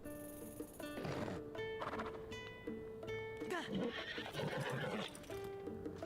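A horse in Zelda: Tears of the Kingdom gives a whinny amid game music and effects, with hoof clip-clops and a person talking over it.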